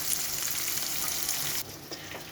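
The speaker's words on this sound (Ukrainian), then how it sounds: "Обережно перевертаємо на різні боки та обсмажуємо з усіх боків до рум'яної кірочки" Cauliflower pieces fry in a pan, turned to brown on all sides, making a loud, dense, continuous close sizzle that drops slightly in the last second.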